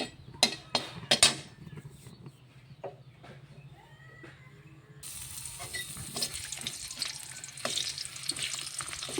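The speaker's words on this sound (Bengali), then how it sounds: "তেল গরম হলে পেঁয়াজ কুচি দিয়ে দেবো।" Chopped onions frying in hot oil in a wok, a steady close sizzle that swells louder partway through, with scattered clinks and knocks of cookware earlier and no talk.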